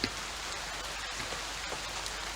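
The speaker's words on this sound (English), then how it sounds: "Let me turn the rain down a little bit because it's getting intense." Heavy rain ambience plays as a backdrop to a pirate-themed tabletop game session. A steady, dense hiss of falling rain with scattered drop patter continues evenly throughout, with no voices.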